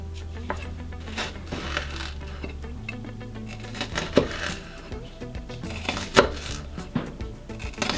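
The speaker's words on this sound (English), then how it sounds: "I'm butterflying the shallot" Knife cutting into a shallot on a board, a series of irregular crisp taps and crunchy slices, close by with no talking.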